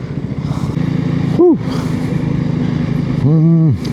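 A motorcycle rides up the Yelagiri hills road in Tamil Nadu, its engine droning steadily and close, with two brief rev swells, while someone talks over it.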